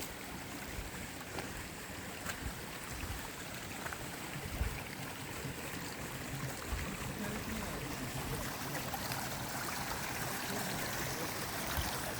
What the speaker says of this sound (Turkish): kaynak suları taşıyor